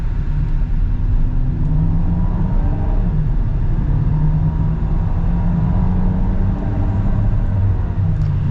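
Cabin sound of a 2022 Volkswagen Taos SEL with its turbo engine accelerating: a loud, steady low rumble of engine and road noise that holds throughout with no talking.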